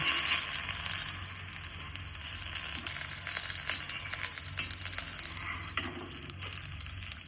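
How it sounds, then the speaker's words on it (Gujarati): Leftover roti roasts in hot oil in a pan, giving a continuous close sizzle and crackle that stays steady throughout, with a few faint scrapes and stirring touches. "ગરમ થાય એટલે આપણે રોટલીને શેકવાની છે"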